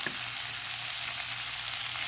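Masala for chicken handi fries in a pan with a loud, even sizzling hiss close by, stirred throughout, with no talking.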